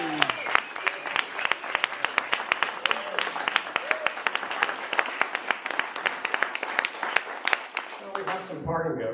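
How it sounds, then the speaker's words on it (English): A church congregation gives a round of applause at a service, many hands clapping close and lively for several seconds before the clapping breaks off and a voice starts talking. "let's give everybody a big round of applause."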